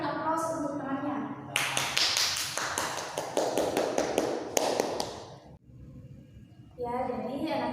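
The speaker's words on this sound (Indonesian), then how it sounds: "Silakan berikan aplaus untuk temannya." Students in a classroom burst into applause after a presentation: dense clapping from many hands for several seconds, close by, framed by a teacher's voice before and after.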